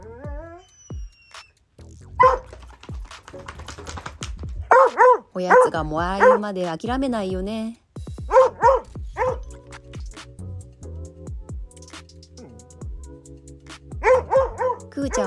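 Two Plott hounds bark and yip repeatedly at home after a walk, begging for treats in short bursts and clusters, with someone talking over and between the barks.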